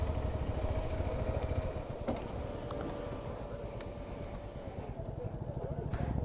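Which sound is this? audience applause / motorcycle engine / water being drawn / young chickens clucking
motorcycle engine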